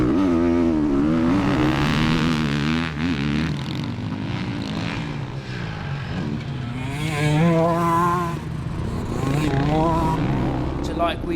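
Ducati 450 motocross dirt bike ridden hard on a track, its engine revving up and down in a loud continuous snarl with shifting pitch, and a voice talking over it.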